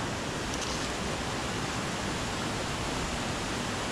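Corsican mountain waterfall of icy water, a steady dense roar of rushing, falling water, loud and close, unbroken throughout with no voices.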